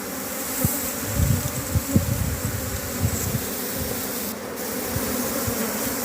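A honeybee swarm clustered on the front of its hive after returning from a nearby plant makes a steady, close droning hum, with occasional louder passes from individual bees and no talk.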